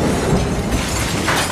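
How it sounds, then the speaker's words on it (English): Glass and steel raining down from a collapsing structure in an abandoned city, a brief burst of crashing and shattering debris, loud and dense with a brighter glassy crack near the end. "As glass and steel rain down"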